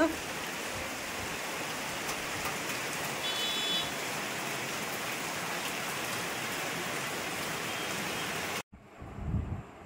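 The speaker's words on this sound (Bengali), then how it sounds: "এই দেখো বৃষ্টি পড়ছে" Evening rain falls steadily, a dense even hiss of drops on surfaces heard nearby and constant, cutting off abruptly near the end into a brief quieter moment with a low rumble.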